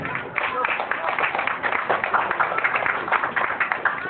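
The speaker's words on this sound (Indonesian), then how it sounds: "beri tepuk tangan untuk 3 peserta ini" An audience on stage-show night claps for three participants at a mentalist performance, a dense steady patter of many hands filling the room throughout.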